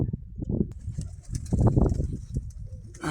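Soft, low cooing of pigeons, several overlapping calls in an uneven rhythm, close by, with faint rustling in the background.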